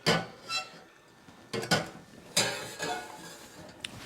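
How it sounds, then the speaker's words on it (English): Sauce is strained through a sieve into a smaller pan, with close clinks and scrapes of metal cookware and utensils in several short, irregular bursts and no talking. "Strain that into this pan here."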